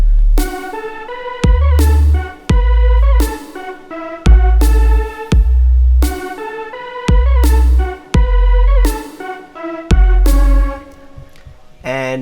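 Detuned pulse-wave synthesizer lead in a drop, playing a bright, bouncy melody in short rhythmic phrases over punchy low kicks, loud and up front with no talking.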